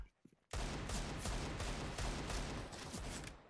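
Gunfire from the video game CS:GO erupts as a loud, dense, continuous burst of rapid shots that lasts about three seconds, after a brief quiet moment with faint sounds at the start.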